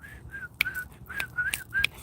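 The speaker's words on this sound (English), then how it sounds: "I whistle." Someone whistles outdoors, a short, bright tune of rising and falling notes. It is near and moderately loud, broken by a few sharp clicks, and no one talks.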